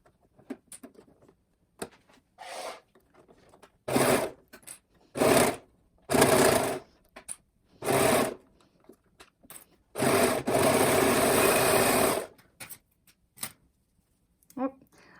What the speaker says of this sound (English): I'm going to serge along this top edge.